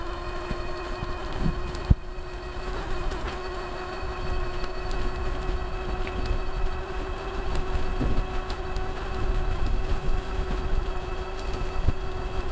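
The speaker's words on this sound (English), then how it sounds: "we're getting side drafts of wind" Wind buffets the microphone of a rider on a Zonveer ZX3 e-bike, a steady low rumble with a faint hum running through it and no talking.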